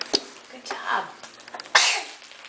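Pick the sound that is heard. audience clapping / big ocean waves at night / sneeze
sneeze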